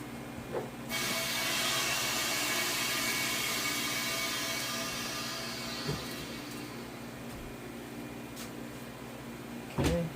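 Pressure valve opened on a small Harvest Right freeze dryer after a batch of lemons, releasing a sudden loud steady hiss that slowly fades over several seconds, ending with a few clicks and knocks.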